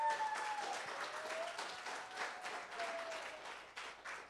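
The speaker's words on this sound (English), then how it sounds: "Y'all please give our youth a round of applause." Church congregation applauds the youth during a Sunday service announcement, a steady wash of clapping that carries evenly for about four seconds, with a faint sustained tone underneath.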